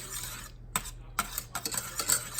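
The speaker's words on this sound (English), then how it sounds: "So keep that on medium heat, stirring frequently." Pudding being stirred in a pot on medium heat for frog eye salad, a spoon scraping the pot in quick, uneven strokes, close and fairly loud against a faint sizzle, with no talk.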